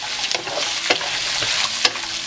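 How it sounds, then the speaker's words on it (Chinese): Pork ribs frying over low heat in oil in a wok, with a steady sizzle and occasional scraping stirs of the spatula, close and alone with no talk. "下入排骨，开小火将排骨煸香"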